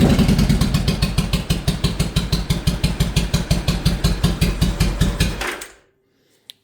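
A Yamaha V-Star 1100 motorcycle with freshly rebuilt carburetors runs close by with a loud, steady, lumpy idle of rhythmic pulses, then shuts off near the end, leaving silence.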